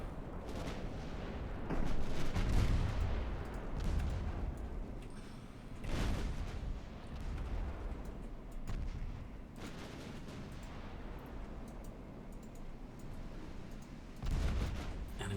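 Naval gunfire from battle cruisers and battleships in the Ultimate Admiral Dreadnoughts game, a series of deep booming salvos at irregular intervals over a rumbling background, moderately loud.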